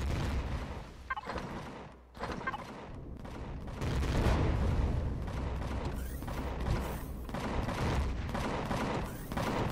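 Weapons firing during a space battle in the video game Empyrion Galactic Survival: dense, repeated bursts of gunfire-like blasts at fairly constant intensity, with short gaps between volleys and no voices.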